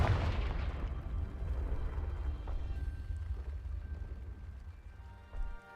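Spell explosion from the Confringo curse in Hogwarts Legacy, a loud booming blast with heavy low rumble that decays slowly over several seconds, with a brief thump near the end.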